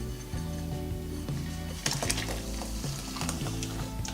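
Homemade laundry detergent with washing soda is stirred in a pot, a steady scraping and sloshing with small knocks against the pot, close and fairly quiet, with no talking.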